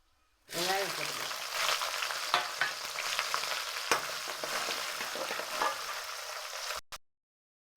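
Onions fry in oil over a low gas flame with mustard seeds for a bitter gourd kara kuzhambu, a loud steady sizzle with a few stirring clicks that cuts off abruptly near the end.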